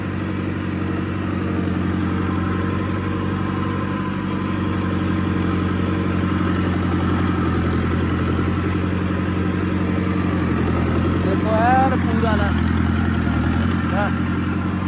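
A Digitrac tractor engine idles steadily with a low, continuous rumble and clatter, close by, during rice field puddling, and a brief voice rises near the end.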